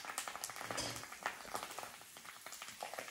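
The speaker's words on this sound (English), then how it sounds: "it's popping" Garlic and parsley sauté in a hot pan, giving a soft steady sizzle with quick irregular pops and crackles, faint and close.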